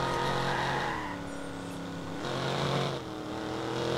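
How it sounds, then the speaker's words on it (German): Car engine in the video game Watch Dogs, a steady droning hum that dips in pitch and then climbs again as the car is driven, continuous and fairly loud with no talking. "Geile Karre, definitiv."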